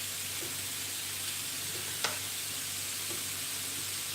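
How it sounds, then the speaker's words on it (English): Vegetables fry in a pan with a constant, even sizzle, broken by a few soft clicks of stirring. No one speaks. "what you do when you're frying vegetables and stuff like that"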